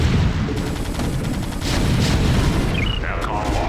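Terran siege tanks fire in a StarCraft battle, booming cannon shots thudding repeatedly amid a dense, continuous din of combat noise.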